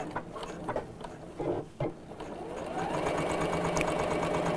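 A sewing machine stitches a quilted pouch, starting with a few short bursts and knocks, then running into a steady continuous whir, close and fairly quiet.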